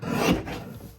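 A single short rasping scrape as a paper trimmer blade cuts across cardstock, close and fairly loud, lasting about a second before it fades.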